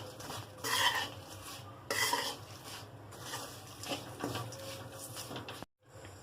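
A spoon scrapes and stirs through a pot of flattened rice (avalakki) seasoning, steady rhythmic metallic scraping with a few louder strokes, close and alone with no talk.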